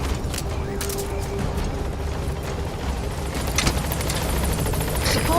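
A support helicopter in the video game Metal Gear Solid V: The Phantom Pain, a steady loud rotor drone mixed with dense battle noise and sharp bursts throughout.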